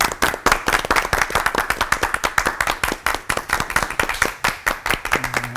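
An audience in a church setting claps to welcome a sermon, with sharp, distinct hand claps in a loose, uneven rhythm close to the microphone; the clapping continues throughout and a faint tone appears near the end.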